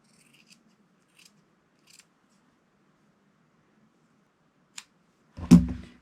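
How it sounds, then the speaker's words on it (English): A few soft snips come first, then one louder, close cut as scissors trim the serged edge off a t-shirt band. The snips are sparse and spaced out over near silence. "we'll go through and cut the serged edge off of here so that it sits a little"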